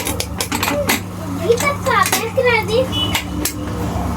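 A mixer grinder jar being opened after grinding potato stuffing for pani puri in a home kitchen: sharp metallic clinks and clattering of the lid and jar up close, mixed with people chatting.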